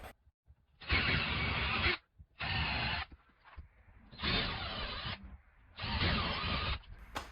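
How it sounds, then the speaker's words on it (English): A power drill drills a pilot hole in four steady bursts of about a second each, whining loudly, with brief quiet gaps between them. "take your drill bit and drill a pilot hole"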